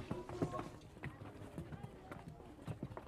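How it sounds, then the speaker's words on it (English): Donkey hooves clip-clop through narrow town streets in Lamu, an irregular run of close knocks under a busy background of street noise and distant voices. "The streets bustle with donkey traffic."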